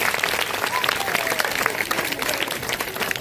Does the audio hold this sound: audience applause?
yes